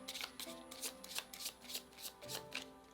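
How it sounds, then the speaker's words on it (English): A deck of tarot cards is shuffled by hand, giving rhythmic bursts of crisp riffling and slapping about every third of a second, close and fairly quiet, with no talking. "I'm still shuffling"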